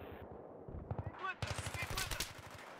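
Rapid gunfire from a rifle in Battlefield's Operation Metro map, steady rattling shots under someone talking over voice chat, moderately loud.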